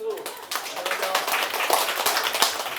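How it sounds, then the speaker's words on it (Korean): An audience claps at a live talk on stock investing, with a steady patter of many hands over about three seconds, fairly close and moderately loud, with some voices mixed in. "박수 한번 쳐주세요"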